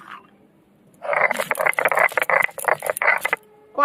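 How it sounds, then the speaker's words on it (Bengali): Garlic with dried and fresh green chillies crushed together on a traditional grinding stone, a close, loud run of rough scraping and grinding strokes lasting a few seconds after a quiet start. "রসুন, শুকনো লঙ্কা আর কাঁচা লঙ্কা আমি একসঙ্গে বেটে নেব।"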